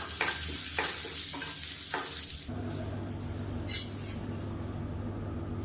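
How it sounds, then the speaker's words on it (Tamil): Mustard seeds, urad dal and curry leaves sizzle in hot oil for a tempering, a close, steady crackling hiss that settles into a softer frying sound halfway through, with a faint clink of a utensil. "இப்போ நம்ம தாளிச்சிக்கலாம்"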